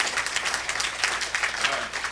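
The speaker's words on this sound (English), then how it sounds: "That's why I want another round of applause." A brief burst of crowd applause at the 1987 Arkansas Fiddlers' Convention for a 79-year-old fiddler, dense, close clapping throughout the short moment.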